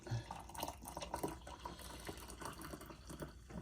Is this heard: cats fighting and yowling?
no